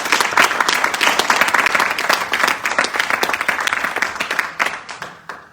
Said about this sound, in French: Et bien applaudissez Bertrand.